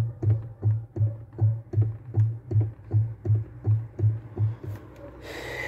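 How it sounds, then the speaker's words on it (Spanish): A steady knocking rattle from a VW car's front steering rack, repeating about twice a second, low and regular, followed by a brief rush of noise at the end. "parece que el ruido es en el tren delantero"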